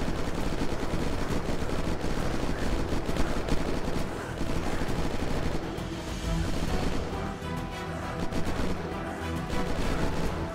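Rapid bursts of gunfire blast against zombies in the survival video game Unturned, dense and continuous with loud overlapping shots, booming impacts and crashes throughout.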